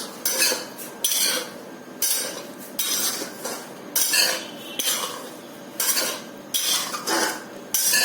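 A spoon scrapes and clinks around a pot of rabri in regular bursts about once a second, close and clear, with a faint simmer underneath and no talking.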